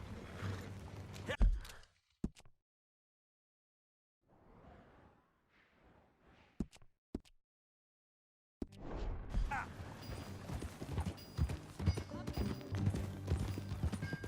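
Horse hooves clip-clop in Red Dead Redemption, coming and going between quiet gaps before a busier stretch of mixed sound, with some voices.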